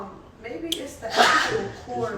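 Someone sneezes once, sharp and close, in the middle of a casual indoor conversation while a person is sick, with voices talking before and after it.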